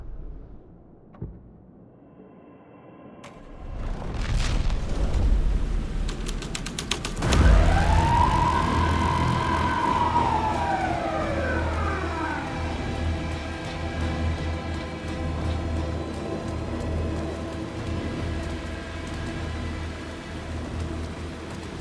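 A police car siren in the video game Alan Wake II wails loudly, its rising and falling tone sweeping up and down as it swells in, then carries on steadily under low ambient rumble.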